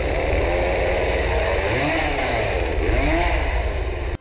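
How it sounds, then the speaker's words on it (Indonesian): Chainsaw revving hard in the Indonesian horror film Rumah Dara, a loud close buzzing engine that rises and falls in pitch with repeated throttle surges before cutting off abruptly. "Dan Dara berlari menuju Ladia sambil membawa gergaji mesin."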